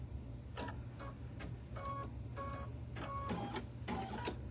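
Home sewing machine running with an empty bobbin so it fails to form stitches; a steady low motor hum carries a series of sharp, regular mechanical clacks from the needle, close and moderately loud.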